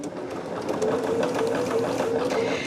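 A sewing machine stitches steadily at close range, humming and whirring with a fast, even mechanical rhythm while sewing a scrappy quilt top.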